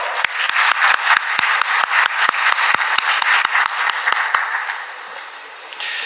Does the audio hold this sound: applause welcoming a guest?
yes